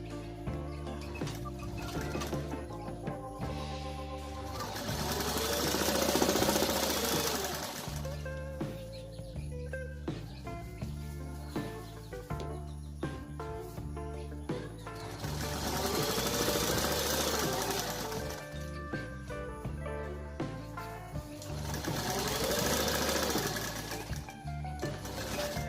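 Sewing machine stitching double piping onto fabric, running in a continuous rhythmic hum with periodic surges in speed, fairly close but moderately quiet, no talking over it.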